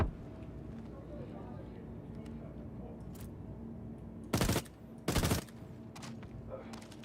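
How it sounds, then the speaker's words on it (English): Gunfire in the video game Star Citizen: two sharp bursts of automatic shots close together, each lasting about half a second, standing out loudly over a quiet game background while a player talks. "Look out! Someone's shooting!"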